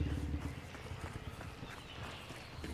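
Hooves clip-clop at a running pace, fairly distant and muffled, over a steady rushing background noise.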